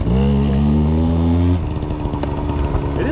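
A mini Goped bike with an upgraded engine revs loudly and steadily near the listener, then drops into a rougher, choppier engine note as it is ridden, with no talking.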